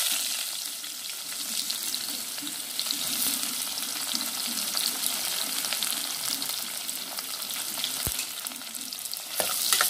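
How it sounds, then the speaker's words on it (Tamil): Sliced onions fry steadily in hot oil for a mutton kurma, a dense continuous sizzle with soft stirring scrapes throughout and a sharp utensil knock near the end. "இப்போ வெங்காயம் வெட்டி வச்சுருக்க வெங்காயத்தை நீல நிலமாக வெட்டி வச்சுருக்கிறத போட்டுடலாம்."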